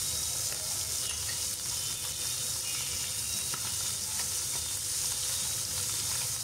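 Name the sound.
small fish frying in a pan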